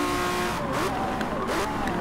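A Lamborghini Centenario races around Le Mans in Forza Motorsport 7, its engine whining and shifting in pitch with brief tire noise, under a continuous bed of game sound.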